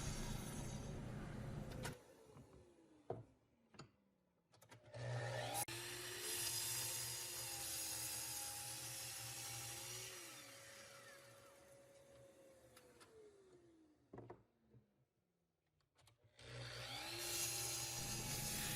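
A hand or power saw slowly cuts wood pieces for a mallet head, such as padauk and wenge, making a long, steady buzzing cut with pauses and a few clicks between passes.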